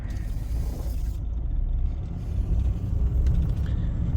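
Lifted L5P Duramax diesel pickup truck on a test drive, heard from inside as a steady low road rumble and engine drone that swells slightly toward the end, with no talking.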